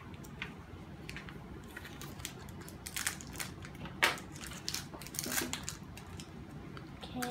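Scissors snipping into a blind bag toy package, several scattered short cuts and rustling crinkles of plastic over a low background hum, fairly faint and close.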